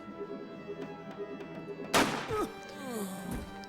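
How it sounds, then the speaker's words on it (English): A single loud, close shotgun blast from the tactical game Jagged Alliance 2, with a faint background hum and some quiet talk before it and a short trailing clatter after. "I think Mergus might take that with the shotgun"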